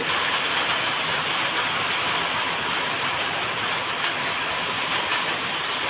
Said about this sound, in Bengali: খুব জোরে জোরে বৃষ্টি পড়তেছে।